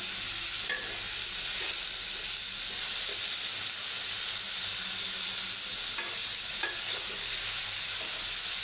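Bitter gourd frying in a covered pan on a low flame, giving a steady, continuous sizzle and hiss with a few faint clinks and stirring sounds.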